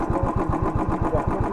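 A motorbike engine runs steadily on a mountain road at Mandala Top in Arunachal Pradesh, a close, loud, even pulsing throb with a regular rhythm and no talk.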